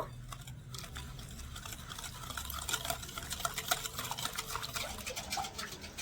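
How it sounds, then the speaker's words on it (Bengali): Carrot cake batter with vanilla essence being stirred in a bowl, wet squelching and scraping strokes that grow busier and more rhythmic after a quiet opening, close and fairly soft. "ভালো করে নেড়ে ছেড়ে মিশিয়ে নেব"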